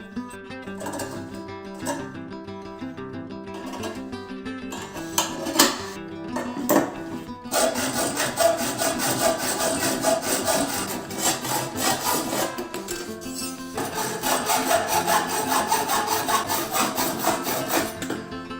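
Metal strip being sawn into pieces for a DIY grill vent, rhythmic back-and-forth rasping strokes, sparse at first, then faster and denser and loud, close up with no talking.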